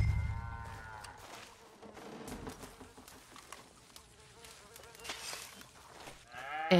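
Cows mooing at a farm stable in the game Red Dead Redemption 2, a low drawn-out moo at the start amid buzzing flies and busy ambient farm noise, with another call near the end.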